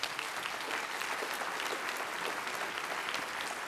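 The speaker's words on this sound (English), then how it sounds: "So a round of applause, please." An audience at the Wikimania 2015 conference applauds in a dense, continuous burst of clapping that fills a large hall, loud and steady throughout, with no speech over it.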